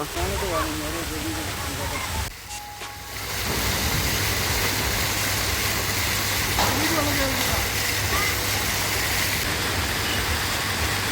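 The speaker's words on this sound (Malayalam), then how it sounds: "ഇവിടെ ചെറിയൊരു വെള്ളച്ചാട്ടമുണ്ട് മഴ പെയ്യിപ്പിക്കുന്നുണ്ട്" A small artificial waterfall and sprayed rain at Funtartica water park in Nilambur give a steady hiss of splashing water that dips briefly, while voices talk faintly over it.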